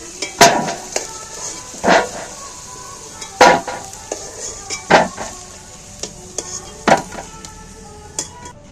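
Fried potatoes lifted from a pan of hot oil while cooking chicken curry, several separate scraping clinks of a utensil against the pan over a soft sizzle, close by, no talk.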